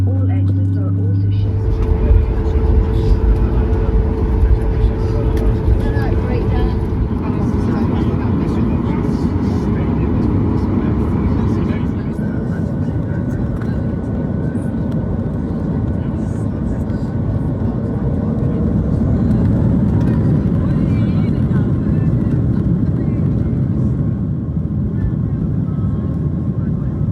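Jet engines hum steadily in the cabin of a Ryanair Boeing 737 MAX 8-200 during pushback, heard as a continuous low rumble and whine throughout with cabin announcements and talk over it.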